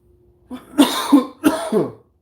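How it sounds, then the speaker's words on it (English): Two hoarse coughing bursts, each a pair of harsh barks, close and loud against silence. "Still coughing."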